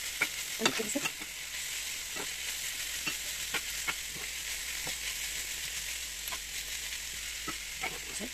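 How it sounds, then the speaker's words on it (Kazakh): A spoon stirs a zucchini and ground-meat mixture in a frying pan, giving soft scraping taps at an irregular rhythm over a steady, quiet sizzle close by. "Енді осының барлығын бұлай араластырып"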